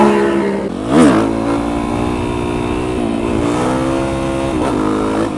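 A motorcycle engine revs hard during a one-handed stunt wheelie on a street in Atlanta, with a sharp loud burst near the start and then sustained high revs with wavering pitch, close by.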